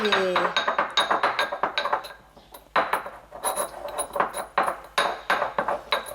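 Pigments mixed and crushed in a glass dish for a homemade cream foundation, giving rapid, loud clinks and scraping taps of a small utensil against glass in quick irregular bursts, with a brief lull midway.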